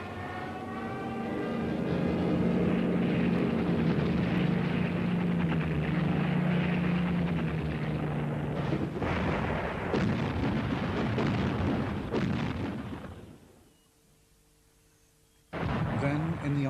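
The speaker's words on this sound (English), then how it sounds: "they switched on a siren, a howling siren which had a great effect on the morale of the enemy" A WWII German dive bomber diving on a target with its siren switched on, a loud sustained howl with falling tones and rumbling engine, followed by heavy bomb bursts before the sound cuts out and resumes.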